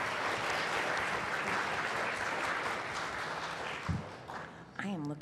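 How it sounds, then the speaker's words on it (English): A dense, steady wash of audience applause at a data science conference fills most of the stretch, then dies away near the end as a voice begins to speak. "Will you join me in giving these people another round of applause?"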